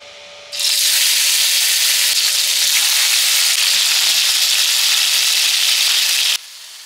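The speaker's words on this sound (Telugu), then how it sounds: "ఇంకో పక్కన స్టవ్ మీద ప్యాన్ పెట్టుకుని ఆయిల్ వేసేసి ఈ కట్ చేసిన టొమాటోస్ ని ఈ ఆయిల్ లో వేసి ఫ్రై చేసుకోవాలి" Cut tomato pieces drop into hot oil in a pan on the stove, bursting into a loud, steady sizzle that holds evenly for about six seconds and then cuts back to quiet, with no talking.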